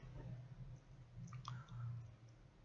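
Faint typing on a computer keyboard, quiet irregular clicks over a low background hum, no talking.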